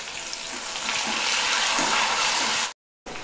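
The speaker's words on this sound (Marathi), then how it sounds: "कांदा चांगला गुलाबी रंगावर छान परतून घ्यायचा" Lengthwise-sliced onion fries in hot oil with cumin and mustard seeds. A loud, steady, dense sizzle runs throughout, then cuts to a brief silence and returns near the end.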